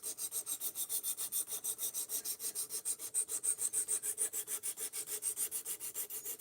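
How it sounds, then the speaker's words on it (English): A knife is sharpened with steady, rhythmic back-and-forth rasping strokes, fairly quick and even, close up and alone. "We are sharpening this knife"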